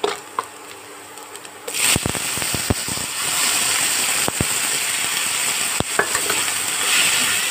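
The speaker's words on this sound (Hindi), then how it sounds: "और टमाटर को भी अच्छी तरह मिलाते हुए भून लेंगे जब तक ये अच्छी तरह से सॉफ्ट ना हो जाए।" Tomatoes stirred and fried in a pan while making Maggi noodles: a quiet start, then a steady sizzle with repeated sharp spatula scrapes and clicks against the pan.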